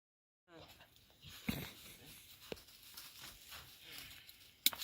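A dog on a backpacking trip in the Cranberry Wilderness, West Virginia, pants and breathes heavily close by in a quiet, irregular rhythm, with a few louder snorts and faint voices nearby.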